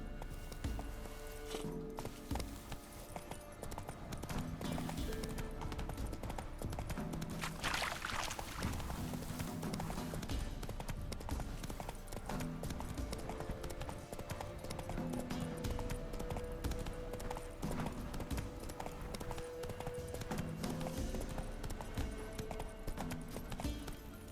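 Horse hooves gallop steadily in The Witcher 3 video game, a continuous rhythmic clip-clop of hoofbeats at a constant loud level throughout, with no talk.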